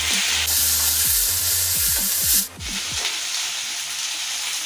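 Malabar spinach stems frying with potatoes give a loud, close hiss that swells sharply for a couple of seconds, then settles to a softer sizzle, with scraping stirs of a spatula underneath.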